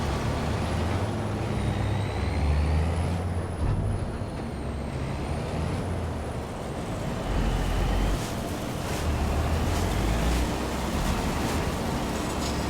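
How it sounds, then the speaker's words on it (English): Truck fitted with a bale autoloader driving in Farming Simulator 25, a steady loud engine rumble with airy hiss and wind-like noise running continuously throughout, with no voices. "let's take this truck with our autoloader, swing it around."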